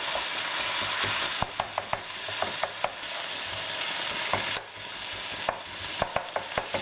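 Canned plum tomatoes being broken up and stirred in a hot pan, with a continuous sizzle of frying under repeated sharp taps and scrapes of a utensil, near and clear.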